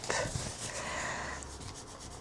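Soft scratchy rubbing against mirror paper to remove glue residue, a steady back-and-forth friction with a few light taps, close by and fairly quiet.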